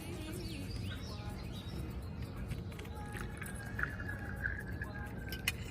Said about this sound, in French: je sais pas si vous entendez les oiseaux